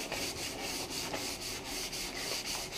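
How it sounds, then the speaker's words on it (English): Sandpaper rubs steadily back and forth over the rail of a broken 12-foot stand-up paddle board, scuffing the surface in quick, even strokes, close and continuous throughout. "Now I'm going to sand it up to the white area"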